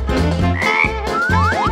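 A frog croaks in a string of throaty, pulsing calls, mixed with rising whistle-like glides, fairly loud and close with no talking.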